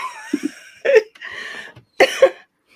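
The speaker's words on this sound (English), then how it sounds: "That's probably why I'm coughing." Two bursts of harsh coughing, each a pair of quick coughs, close and loud with short gaps between.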